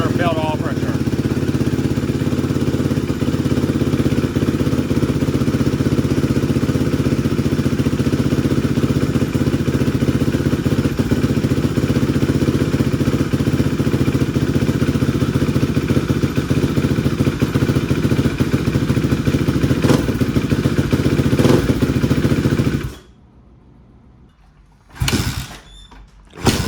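A kickstarted motorcycle with the choke on runs loud and steady for over twenty seconds, then cuts off abruptly into near silence broken by a couple of brief clatters, with voices at times.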